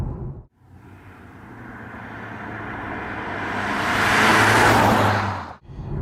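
A 2021 BMW 420d (G22 4 Series) diesel coupe drives through corners as its engine and road noise swell steadily to a loud rushing peak, then drop away abruptly, with brief lulls at either end.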